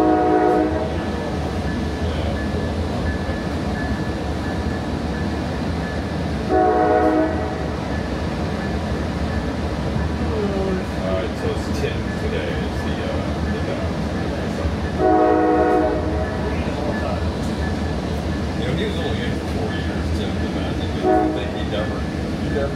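A COASTER commuter train near San Diego station makes a loud, steady rumble and rail noise throughout, with repeated horn blasts sounding at intervals.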